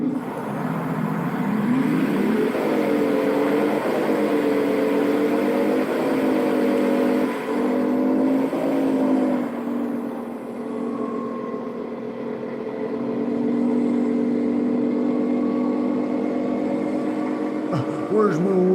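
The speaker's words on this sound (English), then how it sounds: "This truck is a V8." A V8 truck engine drones and revs in rising and falling waves, loud and close, with talking over parts of it.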